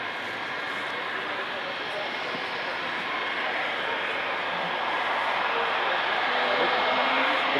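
A Su-30MK jet at the 1999 Paris Air Show at Le Bourget, where it crashed, gives off a loud, steady, roaring engine noise that grows slightly stronger. People talk faintly over the roar.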